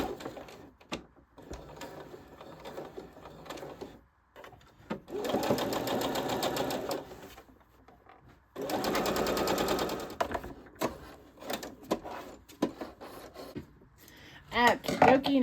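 A sewing machine stitches fabric for a pillow in two steady, buzzing runs of several seconds each, with quieter handling clicks and knocks between them. A voice speaks in the gaps.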